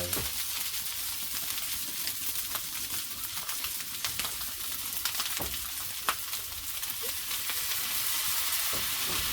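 Fried rice stir-fried in a wok at a roadside food stall in Ban Mi, Lopburi, Thailand: a steady, loud, close sizzle with scattered sharp clicks of the spatula scraping the pan, continuous with no voices.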